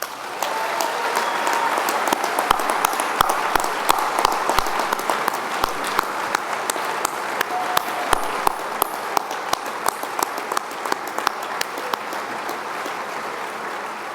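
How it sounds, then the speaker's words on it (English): An audience claps for the 2022 class of Hall of Fame inductees at an induction ceremony, with sustained applause and sharp individual claps standing out close by. "let's give all of our Hall of Fame class of 2022 one final round of applause"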